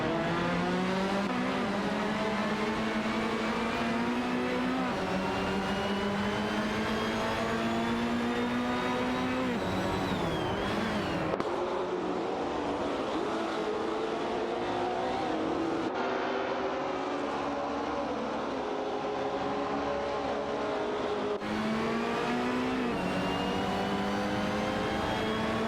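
Race cars in an AI racing game roar steadily and loudly, engine pitch climbing and falling through shifts and corners, with several cars overlapping and brief tire squeal, no talk.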